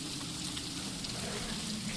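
Heavy rain in the video game The Third makes a steady, dense hiss that sounds close and unbroken from start to finish, with no voices over it.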